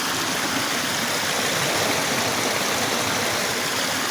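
River stream flowing outdoors, a steady, loud broadband rush of water that stays constant and close throughout with no other sounds.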